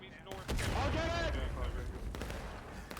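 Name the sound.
massed rifle gunfire in the video game War of Brothers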